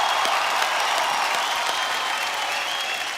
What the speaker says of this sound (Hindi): एक बार आप सबके लिए जोरदार तालियां हो जाए।